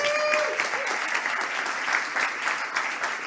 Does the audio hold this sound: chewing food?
no